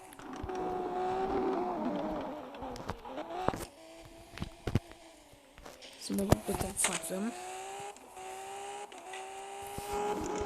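A damaged car driving in a video game, its steady engine drone shifting pitch as it revs and turns, with brief squeals and bumps, under continuous talk from a player.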